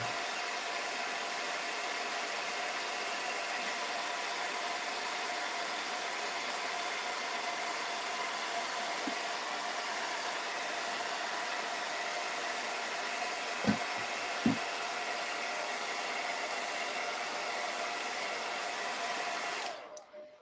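A hair dryer blows continuously for twenty seconds, drying patio paint on a summer door hanger craft, with a couple of brief knocks near the end before it switches off.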